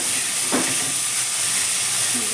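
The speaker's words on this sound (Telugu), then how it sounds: "కొంచెం ఉల్లిపాయ వేగితే చాలు" Onions fry in a pan for a small bitter gourd dish, giving a continuous, even sizzling hiss that fills the whole moment without pause.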